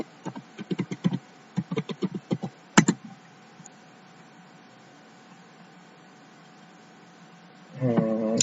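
Typing an nmap command on a computer keyboard: a quick run of close key clicks in uneven groups, then a hard keystroke, steady fan-like hiss with a faint hum, and a louder burst of clatter near the end.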